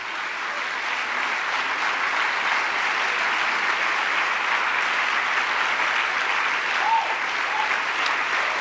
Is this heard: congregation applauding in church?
yes